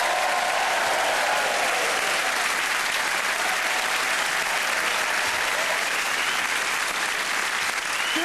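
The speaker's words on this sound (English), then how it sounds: "build up your applause and welcome Mr." Sustained, loud comedy-club audience applause greets comedian Russell Kane at a London stand-up gig, a dense unbroken wash of clapping and crowd noise throughout.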